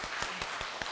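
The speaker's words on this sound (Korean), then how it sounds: "우리 교사분들께 감사하고 격려하는 의미로 한번 박수 드리는 거 어떨까요?" A church congregation claps for its teachers in a quick, even rhythm of five or six sharp claps in under a second, close and fairly loud.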